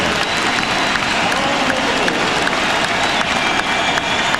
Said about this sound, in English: A standing ovation here at Arco Arena for Stockton and Malone.